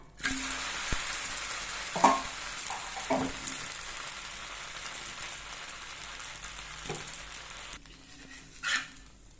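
A black kavuni rice dosa fries on a pan after being flipped, with a soft continuous sizzle broken by a few scraping and clinking taps, ending in a brief louder scrape.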